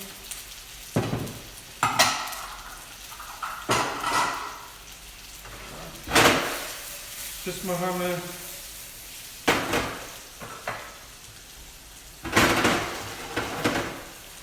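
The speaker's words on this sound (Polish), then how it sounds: "Pieczarki smażymy na bardzo wysokim ogniu" Mushrooms sizzle and crackle in a hot pan over very high heat, interrupted by repeated scraping and stirring clatters, with a voice speaking briefly over the frying.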